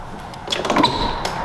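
A door is pulled open with a short creaking swing and a soft thud, close by against a quiet room.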